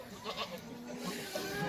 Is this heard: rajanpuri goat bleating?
yes